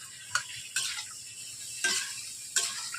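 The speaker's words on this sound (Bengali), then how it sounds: "ফুটি দিয়ে একটু নড়াচড়া করে নিলাম।" A spatula scrapes and clacks against a pan as cauliflower with salt and turmeric is stirred, four distinct scraping strokes over a soft, faint sizzle, close up with no voices.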